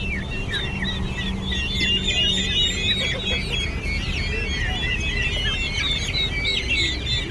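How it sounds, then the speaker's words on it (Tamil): Chickens for sale at a Sunday market cluck and call repeatedly over a busy hum of the crowd, with bright, overlapping bird calls close by and faint voices in the background. "இங்கே கோழிலாம் விற்கிறாங்க"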